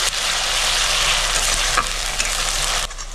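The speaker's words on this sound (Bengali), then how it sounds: "আদা রসুন আর লঙ্কা বাটাটা দিয়ে ভালো করে মিক্স করে নিচ্ছি।" Ginger, garlic and chili paste being stirred in a hot frying pan for chicken kosha, a steady close sizzle with scraping stir strokes throughout, no voices.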